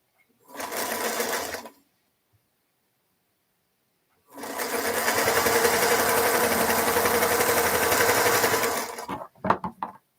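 A sewing machine stitches pieces together in two runs: a short burst, a pause, then a longer steady whirring run that ends in a few quick clicks.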